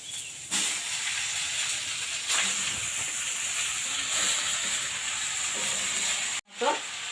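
Greens (piring shak) dropped into a hot pan with bay leaf, chopped onion and garlic hiss and sizzle steadily and fairly loud throughout, with a brief break and a clatter near the end.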